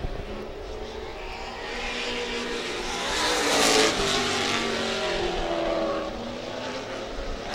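A race car's engine drones around a dirt track lap in a loud, steady roar that swells as the car passes and then fades into the distance, with no talking.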